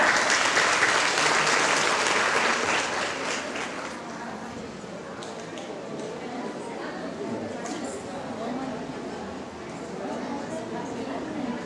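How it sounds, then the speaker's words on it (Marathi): A live audience claps loudly at a gathering, the dense applause strongest at the start, then easing to a steadier, softer patter while a voice talks over it. "टाळ्या होऊ द्या."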